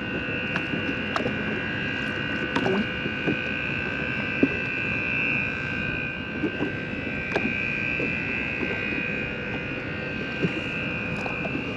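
Steady mechanical drone from the motor driving the hatch-opening mechanism aboard a Great Lakes freighter, a constant hum with a high whine that runs unbroken throughout, accompanied by faint clanks and ambient wind.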